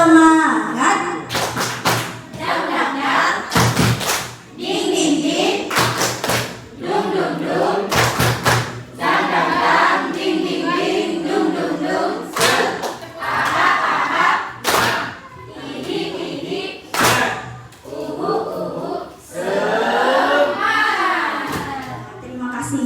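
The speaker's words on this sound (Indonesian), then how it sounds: "Terima kasih untuk tepuk semangatnya yang paling semangat siang ini ya" A school group, apparently children and teachers, performs a rhythmic 'tepuk semangat' clapping chant: loud bursts of patterned claps alternate with shouted chanting over about twenty seconds, close and energetic.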